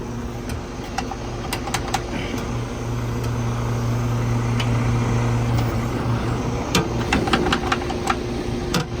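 Vehicle engine running at a steady idle while being shifted back into gear, a continuous low rumble with a hum and intermittent metallic ticks and clunks, close by.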